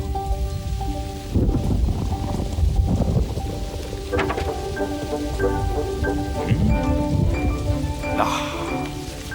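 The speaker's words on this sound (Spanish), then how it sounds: "Está lloviendo." Steady rain pouring down on a surface, with a faint low rumble of distant thunder and some tonal sounds layered over it.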